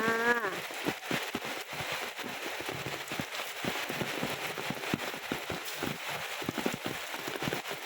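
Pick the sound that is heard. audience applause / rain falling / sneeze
rain falling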